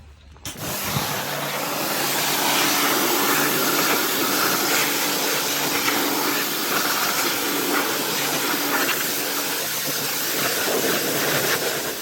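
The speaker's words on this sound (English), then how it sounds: "So first part of a maintenance clean is we rinse the wheels and we rinse the arches." A water sprayer rinsing car wheels and wheel arches, a loud, steady hissing spray that starts suddenly and runs unbroken with an engine-like drone underneath, close by and without talk.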